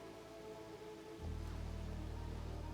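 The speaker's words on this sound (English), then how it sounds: "Oh, it's raining. Oh, that doesn't happen very often in this game." Steady rain sets in partway through in the video game Oxygen Not Included: Spaced Out, a soft, even wash of falling drops that starts suddenly and continues at a constant low level.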